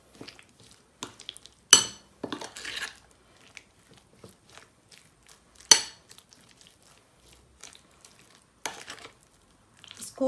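Chicken pieces stirred with spices in a bowl for a cheese boti kabab marinade: scattered soft clinks, squelches and scrapes come in irregular bursts, fairly quiet and close, with no talking.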